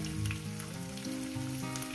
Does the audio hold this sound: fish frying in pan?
yes